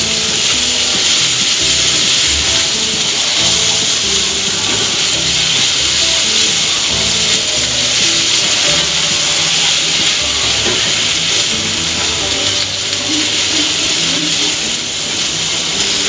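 Minced meat fries in hot oil with onion and ginger garlic paste, giving a steady loud sizzle and hiss that holds unbroken from start to finish with no talking.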